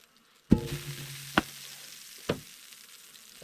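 A steak is rolled onto a hot frying pan and sets up a soft, steady sizzle of rendering fat, broken by a sharp clank at the start and two more brief knocks of the pan or utensil; no talk.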